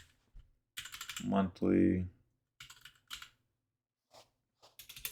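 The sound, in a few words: typing on a computer keyboard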